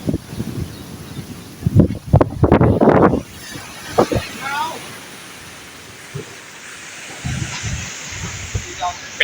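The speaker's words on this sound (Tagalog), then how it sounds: "grabe yung alon no?" Ocean waves slosh around a small boat at sea, a steady wash of water and wind noise with louder splashing bursts, while people talk intermittently nearby.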